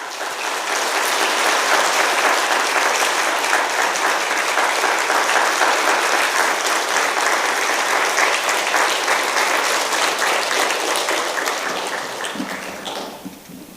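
A church congregation at a Friday worship service breaks into loud, sustained applause to welcome the pastor, a dense wash of clapping lasting about twelve seconds before tapering off.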